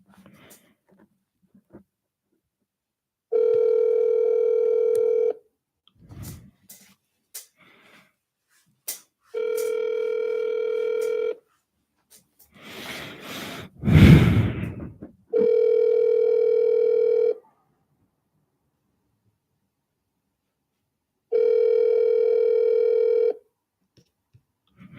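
Repeated ringback tone while calling an office phone: four long steady rings separated by pauses, loud and alone, with a brief burst of noise between the second and third rings.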